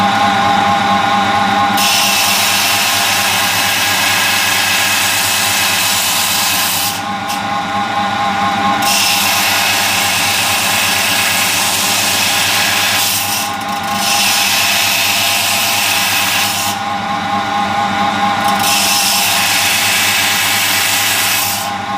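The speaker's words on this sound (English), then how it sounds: "take off about 4 or 5 slices on the stone, just to make it a little bit easier before I start grinding it" A lapidary saw blade slices through an agate stone, its steady high-pitched grinding whine rising and falling as several slices are taken, loud and continuous with brief dips between cuts and no talking.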